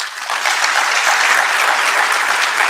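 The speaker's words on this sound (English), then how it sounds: "if we can give them a round of applause" Audience applause fills a community awards breakfast, a steady, dense wash of many hands clapping at close range throughout, with no break.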